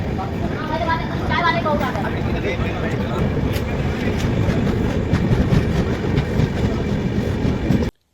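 A train rumbles along the tracks near Bareilly with constant loud noise and a rhythmic clatter, and people talk briefly over it near the start.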